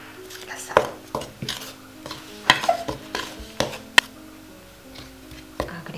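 Dough ingredients for ham bread, including melted butter, eggs, sugar and salt, being mixed in a bowl, with intermittent knocks and scrapes of the utensil against the bowl in an uneven rhythm.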